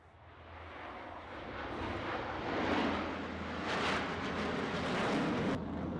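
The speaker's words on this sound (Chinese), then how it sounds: "大陆八一飞行表演队飞向天际" Military jets of the August First aerobatic team fly over the Changchun air show, a loud, sustained roar that swells and eases in waves for the whole stretch, with no talking.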